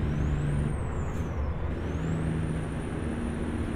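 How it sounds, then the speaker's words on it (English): A heavy truck hauling a 20-ton load in American Truck Simulator drops through gears. The steady loud engine drone carries a whining pitch that falls and rises again as revs change. "I think we need to drop some gears here."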